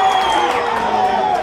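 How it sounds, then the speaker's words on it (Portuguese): Crowd of supporters cheering and whooping at an amateur football match in the Copa Caxias, celebrating a first goal scored by the number 10 for Atlético Social; a steady, loud roar of voices throughout. "a equipe do Atlético Social alegra a torcida com seu primeiro gol"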